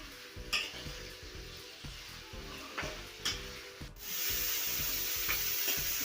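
Sliced bitter gourd fries in a pan with a steady crackling sizzle, broken by periodic scraping and clicking strokes of stirring. The sizzle swells louder and more continuous in the second half.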